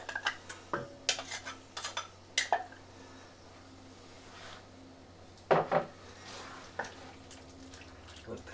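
Drunken noodles cooking in a pan with sauce: scattered utensil clinks and scrapes against the pan over a soft background hum, a few louder clatters spaced irregularly, close and quiet overall.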